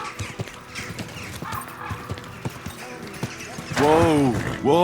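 Horse hooves clip-clop steadily in Kingdom Come: Deliverance 2, then a loud whinny near the end, with a voice speaking over it.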